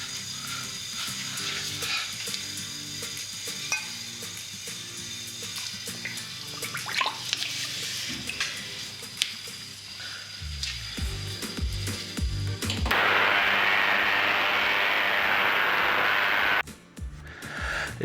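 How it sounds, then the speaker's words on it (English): Ultrasonic cleaner filled with water and degreaser concentrate, cleaning grimy MR2 brake caliper parts: clicking and knocking handling sounds, then a loud steady buzzing hiss of the running bath that cuts off abruptly. "I got an ultrasonic cleaner last year and I've never used it, so I thought this was as good a time as any."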